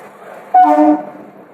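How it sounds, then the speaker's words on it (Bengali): A train horn sounds once at a railway station platform, a short loud blast of about half a second over faint low background rumble. "আর যে ট্রেন দাঁড়িয়ে আছে, ট্রেন কিছুটা লেট করেছে।"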